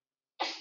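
A single sneeze bursts out in a classroom after a short silence, sharp and fairly close, trailing into a brief breathy tail.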